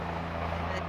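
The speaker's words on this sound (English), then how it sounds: "I'm sure you can hear the helicopter." A helicopter circles overhead at night near a remote Alaska campsite, a steady low rotor drone holding continuously through the brief moment.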